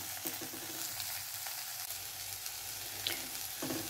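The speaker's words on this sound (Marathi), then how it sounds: "आता ही मटकी छान मी अशी 1 मिनिटासाठी मिक्स करून अशी परतून घेत आहे." Moth bean sprouts with spices sizzle and crackle steadily in a pan as they are stir-fried, with occasional scraping taps of the spoon; a soft, even frying hiss without any talk.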